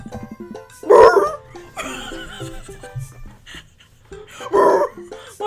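A large dog in the video game Dream Daddy gives two deep, loud barks several seconds apart, with a voice talking and chuckling in between.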